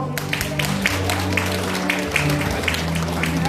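Applause from the crowd at a Korean high school alumni association chairman inauguration ceremony, a steady moderate clapping with steady background tones underneath throughout.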